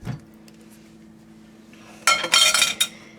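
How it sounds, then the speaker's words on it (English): A fork stirs grainy mustard, powdered mustard and spices in a pressure cooker pot for maple bacon baked beans. After a quiet stretch comes a short, loud burst of metallic scraping and clinking, then one last clink. "I probably shouldn't be stirring with this fork"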